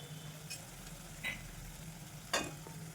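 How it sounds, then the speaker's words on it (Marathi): Quiet, low sizzling of spices and coriander roasting in oil in a pan, broken by a few short scraping strokes of a spoon stirring, with a faint hum underneath. "तेल सुटेपर्यंत इथे आपण भाजून घेणार आहे"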